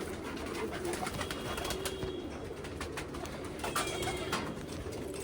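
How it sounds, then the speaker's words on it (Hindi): Original Deoband pigeons coo together in a steady, close, overlapping drone, with faint taps and rustles on top and no voices. "तो देवबंदी कबूतर है जी, ओरिजिनल देवबंद के कबूतर।"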